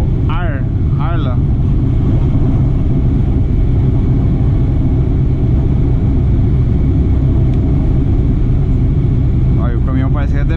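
A heavy truck engine, seemingly low on power, drones steadily at low pitch as it drives, with a few brief voices breaking through over the rumble.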